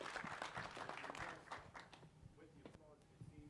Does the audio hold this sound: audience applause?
yes